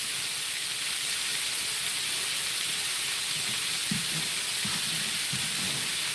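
A tri tip steak sears in a hot pan, giving a steady, loud broadband sizzle and hiss throughout, with a few soft low knocks and bumps underneath.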